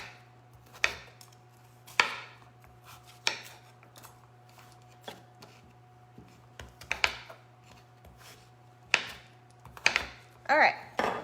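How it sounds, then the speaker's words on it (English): A knife chops sweet potatoes into cubes on a cutting board in sharp, irregular knocks spaced a second or so apart, near and clear over a quiet steady hum, with a few quicker taps toward the end. "here are our sweet potatoes all cut up"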